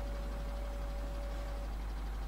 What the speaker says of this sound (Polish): Mamy w końcu jakiś nowszy ciągnik Massey Ferguson.